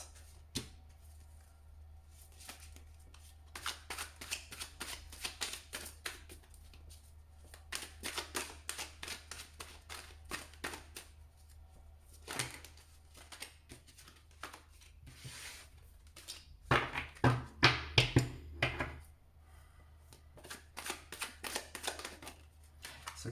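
Tarot cards are shuffled during a card reading, making soft, irregular riffles and flicks in scattered clusters, quiet and close, with a busier burst of shuffling partway through.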